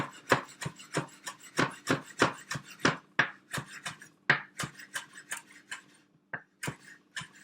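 A knife chops fresh parsley for tabbouleh on a cutting board, a steady run of close, crisp thuds with brief pauses and slightly uneven rhythm near the end.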